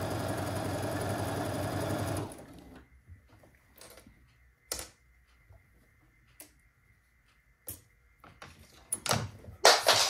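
A sewing machine stitches quilt fabric, running steadily and loudly for about two seconds before stopping, followed by scattered clicks and handling noises in a quiet room.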